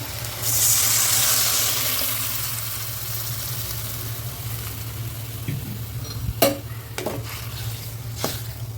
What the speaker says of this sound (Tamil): இப்போ நம்ம புளி தண்ணி ஊற்றிடலாம்